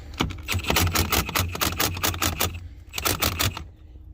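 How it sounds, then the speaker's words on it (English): Milwaukee 18-volt cordless impact wrench with a 17mm socket hammering on a Mini Cooper's lug nuts: loud, rapid rattling impacts in a sustained burst, a brief pause, then a second burst, over a low motor hum. "just going to use my impact on it though to try to speed things up"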